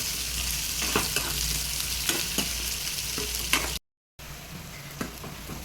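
Onions sautéing in a pan for a dhaba-style lentil and greens dish, a dense, steady sizzle broken by several sharp scraping stir strokes, close and continuous with a short break near the end.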